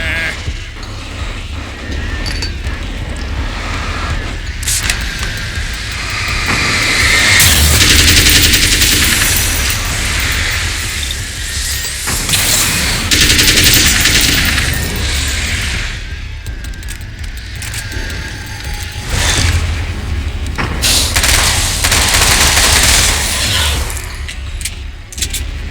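Sustained, loud automatic gunfire from the video game Alan Wake's American Nightmare, with dense rattling bursts that keep rising and falling over ongoing game noise and no talking.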